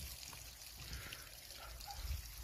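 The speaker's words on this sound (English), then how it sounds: "Got the water turned on." Water runs quietly from a garden hose set up to flush a 2021 Honda outboard motor, a soft, steady trickle and splash heard faintly outdoors.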